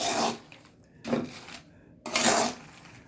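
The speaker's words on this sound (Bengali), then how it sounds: "এই যে দেখেন বাদাম ভাজা" Raw peanuts being dry-roasted in a pan, heard as three bursts of scraping, rattling stirring against the metal separated by short quiet gaps, close and fairly loud with no talking.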